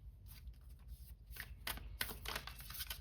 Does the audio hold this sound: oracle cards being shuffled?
yes